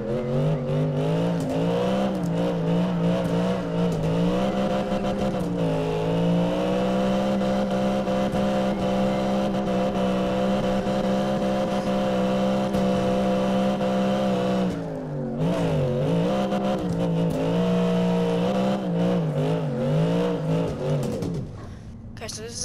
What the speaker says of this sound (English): Okay, so this is how you start off a quick drift, if you want it.